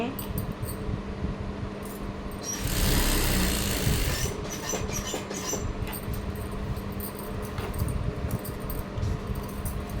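A sewing machine stitches lining onto fabric, its fast motor whirring steadily up close for several seconds with a louder burst early on and small rattling clicks throughout.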